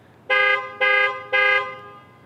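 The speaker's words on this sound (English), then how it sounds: "So it flashes the lights, beeps the horn," Three short, loud car horn honks from the panic button of a 2018 Jeep Cherokee Latitude Plus 4x4, in a quick, even sequence, each a steady blaring tone, with nothing else around them.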